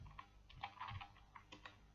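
Quiet typing on a computer keyboard as a command is entered, scattered soft key clicks in short bursts, close and faint, with no voices.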